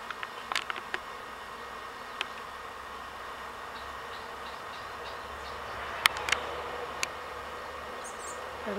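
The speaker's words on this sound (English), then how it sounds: "one of our beehives has decided to swarm up at the top of the pear tree here" A honeybee swarm gathered high in a pear tree gives a soft continuous outdoor hum, with scattered faint clicks and brief buzzing bees passing near the microphone.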